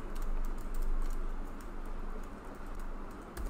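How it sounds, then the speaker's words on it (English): Someone types on a computer keyboard, a quick irregular run of soft clicking keystrokes close to the microphone with no talking. "So I'll just start typing something."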